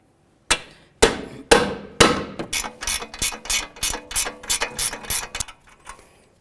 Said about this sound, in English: we can go ahead and start hammering this down a little bit